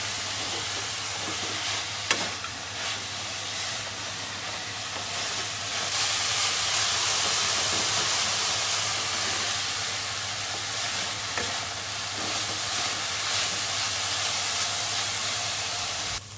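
Grated coconut and sugar being stir-fried in a pan for coconut ladoos, a steady dry sizzle and scraping hiss that runs continuously throughout with a low constant hum beneath.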